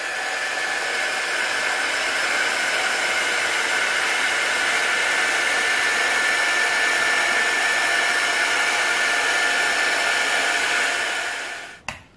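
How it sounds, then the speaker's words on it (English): A heat gun runs over painted tape lines on a barn quilt. It gives a loud, steady, close blowing whine for about twelve seconds, then cuts off abruptly. "Now, I usually take my heat gun then and get rid of my lines."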